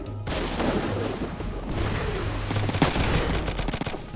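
A wanzer fires in the video game Front Mission 3, producing dense, rattling bursts of gunfire with sharp cracks over a low rumbling background, loud and continuous for a few seconds.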